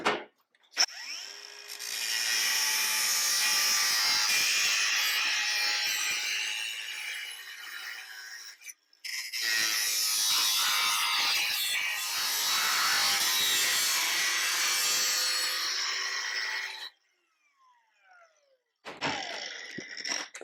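Long, loud power-tool cutting through the metal door window frame of a 1968 VW with a chopped top, a steady, harsh whine running for about eight seconds, stopping briefly, then a second cut, followed by a short final burst.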